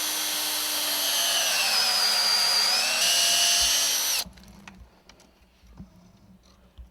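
Power drill boring a tap hole into a maple tree at a sugar bush, a loud steady whine holding for about four seconds before cutting off, leaving faint outdoor background.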